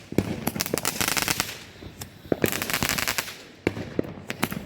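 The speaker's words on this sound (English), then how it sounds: "Here's the surprise explosion." Fireworks from a July 4th backyard display, including a surprise-explosion shell, burst overhead in rapid crackling volleys, with dense clusters of sharp pops and bangs fading and then returning loudly.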